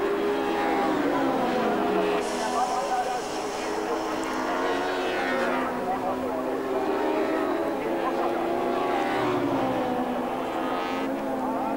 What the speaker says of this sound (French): Schneider s'est fait dépasser par Alessandro Nannini